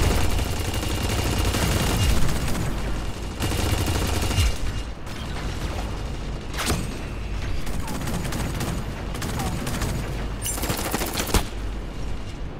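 Gunfire in the futuristic mech battle-royale game Super Mecha Champions: loud, sustained bursts of automatic shots with sharp single cracks and a steady mechanical din running throughout.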